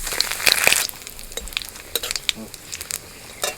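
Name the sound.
cumin, dried chilli, bay leaf sizzling in mustard oil and ghee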